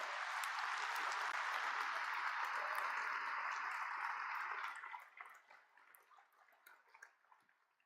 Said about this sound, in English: one more fantastic round of applause